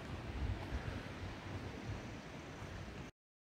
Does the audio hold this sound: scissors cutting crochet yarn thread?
no